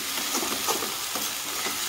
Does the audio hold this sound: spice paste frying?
yes